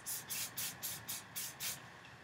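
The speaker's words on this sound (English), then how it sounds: "Hairspray it." Hairspray aerosol sprayed onto a section of hair in seven short, evenly spaced hissing bursts, close and fairly quiet, with no talking.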